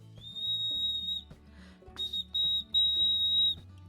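A homemade sycamore wood whistle gives shrill, steady high-pitched blasts, one longer tone followed by several short bursts, close and loud.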